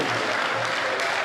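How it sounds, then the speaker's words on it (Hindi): A crowd applauds at a Hindi poetry recital, giving a brief, dense, even burst of clapping from many hands, with no talk over it. "एक बार तालियां जोरदार ठोक दीजिए।"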